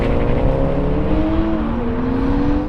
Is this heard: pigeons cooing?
no